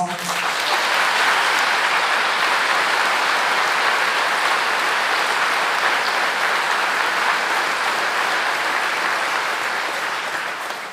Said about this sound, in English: They just deserve the most rapturous of applause.